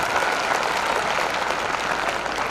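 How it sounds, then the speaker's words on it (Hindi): Loud, full applause from an audience at an institute lecture in Udaipur, a thick, even burst of clapping that holds at the same level for a couple of seconds. "तो सर के लिए एक बार जोरदार ताली"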